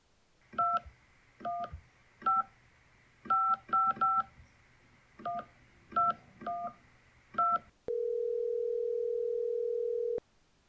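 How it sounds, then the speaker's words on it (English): A telephone number being punched in on a keypad, a run of about a dozen short touch-tone beeps in irregular groups, then a steady dial tone holding for a couple of seconds before cutting off, clear and alone. "Kevin, dial him up."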